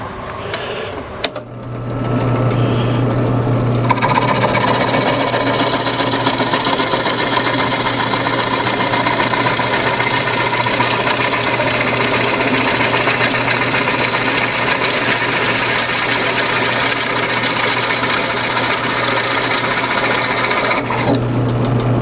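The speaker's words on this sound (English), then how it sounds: "now we're going to take it over to the drill press just like it is" A loud, steady mechanical whir of a drill press with a Forstner bit drilling holes in wood, running continuously for most of the clip, with a low motor hum underneath and no talking.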